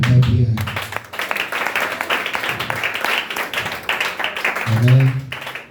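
A church congregation applauds and cheers in praise of Jesus, a dense steady wash of clapping with voices rising over it, bracketed by low hums or sung tones at the start and end.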